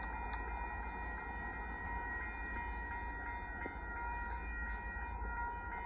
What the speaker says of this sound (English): Here comes a Amtrak Texas Eagle